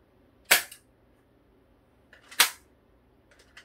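A BB gun fires twice, about two seconds apart, each a sharp, close snap standing alone against near silence, with faint clicks of handling after the second shot.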